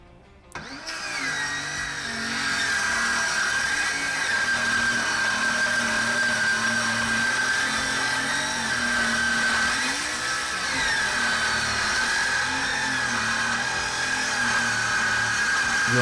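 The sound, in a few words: power tool cutting workbench top and shelf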